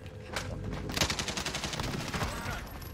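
Gunfire in a battle royale video game: rapid bursts of automatic shots crackle in quick succession, fairly close and steady, with a faint voice underneath.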